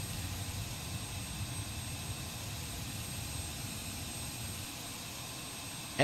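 A Falcon 50 jet engine spins up in a flight simulator game with a steady low rumble and whine that holds at an even level throughout, ending in a brief sharp click.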